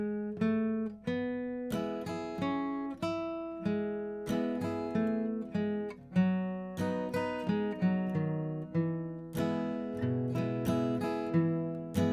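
An acoustic guitar plays a slow, unhurried melody, single notes and strums ringing out one after another with no voices.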